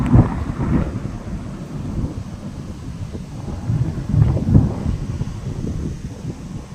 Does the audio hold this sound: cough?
no